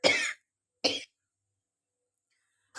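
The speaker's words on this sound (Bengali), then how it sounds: "শুকনো লঙ্কাটা তেলে ভাজা হচ্ছে ওই জন্য কাশি উঠে গেছে" A person coughs from the sharp fumes of dried chillies frying in oil, giving two short, harsh coughs close to the microphone, then silence before a third cough begins.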